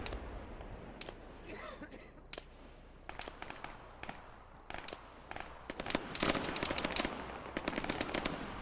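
Gunfire in the Arma 3 game, with rapid bursts and single sharp shots cracking at varying distances, growing denser and louder toward the end, with no talk.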